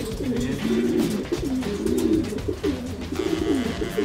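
Racing pigeons coo steadily at the loft after a derby race, a continuous layered chorus of low throaty calls from several birds close by, with no voices over it.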